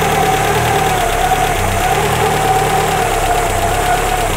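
Car engine idling steadily and loud up close with a constant mechanical hum and faint knocking vibration while the idle adjustment screw is loosened and the revs settle lower.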